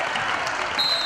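Basketball fans cheer and applaud for a college team's leading rebounder, a steady, dense wash of clapping and crowd noise filling the whole moment at close, loud level.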